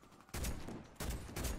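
Gunfire in the Warface shooter game cracks out in two loud, dense bursts separated by a brief gap, close and harsh with no talk over it.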